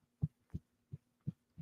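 Soft, muffled thuds from tapping an older, worn t-shirt: five evenly spaced dull taps, quiet and close, with no talking.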